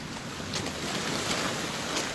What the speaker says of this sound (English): If you can hear the waves rolling up on the seashore right there.